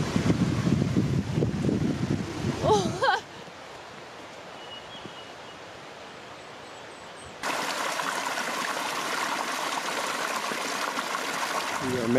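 A mountain creek flows out of Snowmass Lake near Aspen, Colorado, making a steady outdoor rush of water. The sound shifts level partway through, with wind noise on the microphone.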